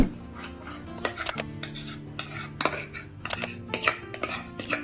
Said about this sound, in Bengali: এইবার গুড়ের সাথে পায়েসটা ভালোভাবে মিশিয়ে নেব।